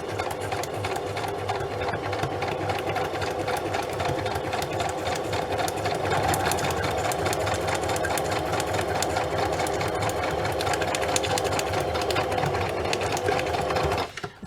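A sewing machine runs steadily and loudly, stitching paper pages for a junk journal, with a dense mechanical whirr and rapid rhythmic clatter that holds for the whole stretch and cuts off at the very end.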